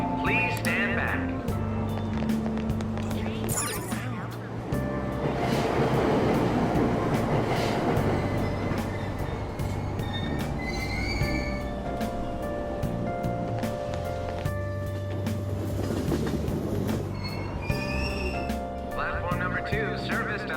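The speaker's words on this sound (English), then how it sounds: "Train doors are now closing. Please stand back." A subway train in the video game Persona 5 Royal pulls away from a station, a sustained rumble and rising motor whine that swells and then eases, with station announcements and tones heard over it.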